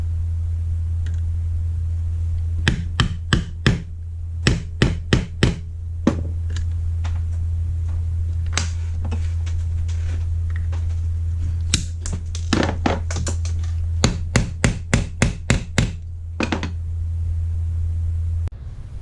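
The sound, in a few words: hammer setting brass rivets in a leather hatchet sheath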